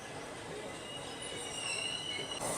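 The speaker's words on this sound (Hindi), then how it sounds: "आधे प्लेटफॉर्म पे इस साइड को हम लोगों की ट्रेन अब लगाई जा रही है।" A passenger train hauled by a WAP4 electric locomotive pulls into a platform at Gorakhpur Junction, wheels squealing in thin, high, sustained tones over a low rolling rumble, heard from the platform at moderate distance.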